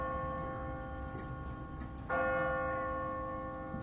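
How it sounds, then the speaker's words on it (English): An automatic church bell in The Walking Dead video game strikes loudly at about two seconds, its rich ringing tone sustaining and fading over a steady background hum, with no talking. "What kind of church bell goes off at 20 past the hour?"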